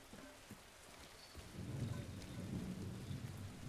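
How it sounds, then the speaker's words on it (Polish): Steady rain with low rolling thunder in the video game Silent Hill 2, the downpour swelling louder midway as a deep rumble builds underneath, with no voices. "I oczywiście pada deszczek."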